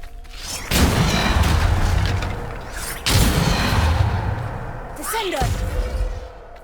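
A Bombarda spell explosion in Hogwarts Legacy lands as two heavy booming blasts with rumbling tails, followed by a whooshing magical sweep, with brief game voices.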